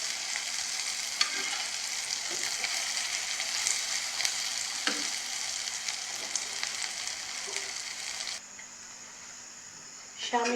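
Shami kebabs made with egg in the mixture frying in a pan, a continuous close sizzle with occasional spatula clinks and stirring, the frying dropping away near the end.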